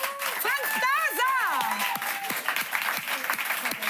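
Studio audience clapping on a German late-night TV show set in a bar, steady applause running under loud voices and a wavering sung or exclaimed tone.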